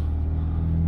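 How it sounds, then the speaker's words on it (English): Honda Civic with a P24A4 diesel particulate fault, engine held at raised revs around 2,500 to 3,000 RPM, a steady close low rumble with a constant hum, no talk over it. "We're going to hold the revs up now for a couple of minutes."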